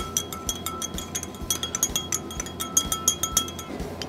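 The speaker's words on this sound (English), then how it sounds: "we'll just give it a stir here with the spoon" A spoon stirs brisket mop sauce in a container, giving a quick run of light clinks and taps against the sides at an uneven rhythm, close and fairly clear, with no talking.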